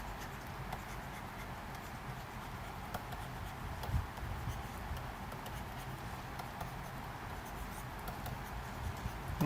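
Steady scratchy writing on a board during an information-theory lecture continues without a break, close and fairly quiet, with no speech over it.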